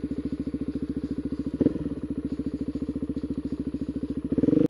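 Motorcycle engine running in rapid, even pulsing beats, with two sharp revs as the rider sets up a wheelie on a cold outing, close and loud with no talk over it.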